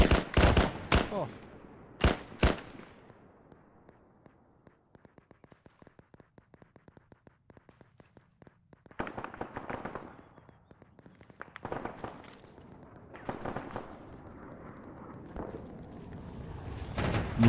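Gunfire in the Arma military video game, with sharp nearby shots at the start, a long stretch of rapid distant bursts, then more close cracks and volleys mixed with muffled activity.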